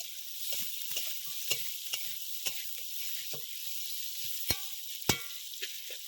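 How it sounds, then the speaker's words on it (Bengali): Cut potatoes sizzle in a pan alongside slit green chillies, a steady crackling hiss broken by sharp, irregular clicks and scrapes of a spatula stirring, close and moderately quiet. "এবার কেটে রাখা আলুগুলো দিয়ে দেবো এবার ভালো করে ভেজে নেব"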